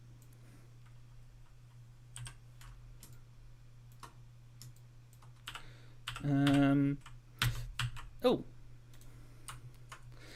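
Fast, uneven clicking of keys on a dodgy computer keyboard with a sticking A key, close and light, under a steady electrical hum, with a brief spoken exclamation partway through.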